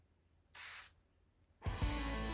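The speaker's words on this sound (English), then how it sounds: "The atomizer is absolutely potent, like it's pressurized" Two quick hissing bursts from a perfume atomizer on a 50 ml bottle of Milton Lloyd The Man Silver men's fragrance, a short puff followed by a longer, louder pressurized spray, close up.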